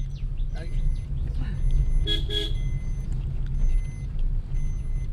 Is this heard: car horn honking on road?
yes